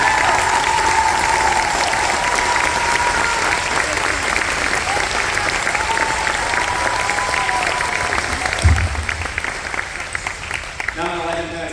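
An audience at a school spring concert applauds loudly and steadily for about eleven seconds, a dense, continuous round of clapping that thins out near the end.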